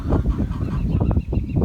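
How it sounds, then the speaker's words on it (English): A group of chickens clucking and squawking nonstop, close by and fairly loud, with no talking. "That's the sound of chickens that either want food or want out."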